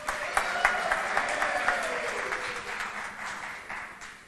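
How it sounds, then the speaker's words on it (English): Applause from a gala audience, steady moderately loud clapping with a few sharper claps standing out, a voice speaking briefly over it. "go ahead and applaud. They deserve applause."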